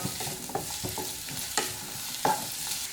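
Shallots frying in a pan and being stirred, with a steady close sizzle broken by repeated scraping stirs at irregular intervals.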